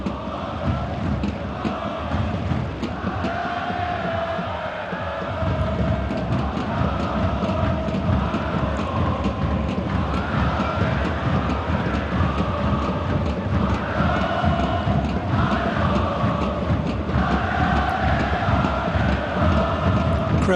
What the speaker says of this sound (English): The crowd really are doing the team proud. They're trying to get them going.